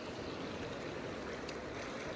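Gold pan swished back and forth through water while panning near Skippers Canyon, Queenstown, New Zealand: a continuous close sloshing and rushing of water, steady and loud, with no talk.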